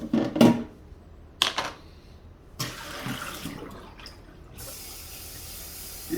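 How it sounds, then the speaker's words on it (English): Tap water runs in short bursts, then a longer steady stream splashing into a cat drinking fountain's main container during rinsing, with brief clunks and handling sounds in between. "Usually give it a quick rinse with a brush to get the worst of it out."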